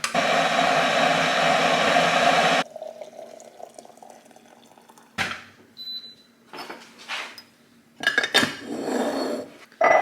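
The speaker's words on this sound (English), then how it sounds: "Let's get the kettle back going for my tea." A kettle is filled and set up for tea in a home kitchen: a loud rush of running tap water for a few seconds, then clattering dishes, cupboard knocks and scraping handling sounds nearby.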